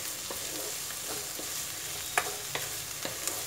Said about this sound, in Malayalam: അപ്പം ആ കോവയ്ക്കും ഇതിനോടൊപ്പം തന്നെ ഫ്രൈ ആയിക്കോളും.